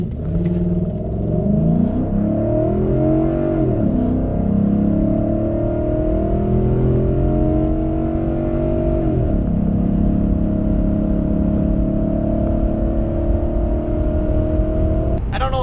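A Ford 5.0 Coyote V8 fitted with a K&N cold air intake pulls hard at full throttle from a stop, its loud engine note climbing through repeated gear-change sweeps and roaring steadily close by.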